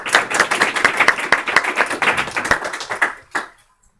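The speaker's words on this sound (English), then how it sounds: "So thank you so much for the round of applause." An audience applauds at the end of a conference talk, a dense burst of clapping lasting about three seconds before it tapers off and stops abruptly.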